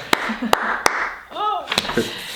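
A few sharp, close hand claps, about five spaced unevenly, ring out alongside lively talk and laughter from a couple of people.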